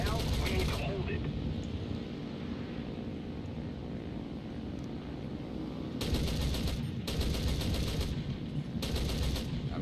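Machine-gun rounds hammer a World War II fighter plane in War Thunder's cockpit view while it defends a captured airfield. The engine drones steadily, then sharp rattling bursts of hits come in several quick, loud clusters near the end.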